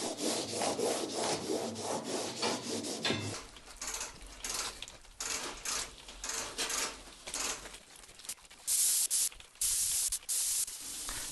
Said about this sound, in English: I'm going to go back at it with the scuff pad.